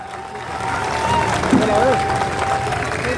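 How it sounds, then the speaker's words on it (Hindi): An audience applauds at a birthday event in Sultanpur, a dense, steady roar of clapping and crowd noise at close range, with faint voices and whistles mixed in. "इस पे मैं तालियां चाहता हूं"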